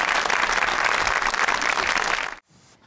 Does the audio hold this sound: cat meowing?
no